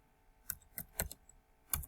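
Computer keyboard typing, four or five distinct crisp key clicks spaced irregularly, close and fairly quiet.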